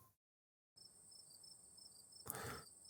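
Crickets chirp quietly on a warm night in a sleepy little neighborhood in the game Scarlet Hollow, a steady high trilling that starts after a moment of silence and continues with a brief swell near the end.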